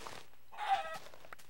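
Clucking chickens in a video game, a short burst of fowl calls rising mid-clip over a quiet background, fairly close and moderately loud with no talk.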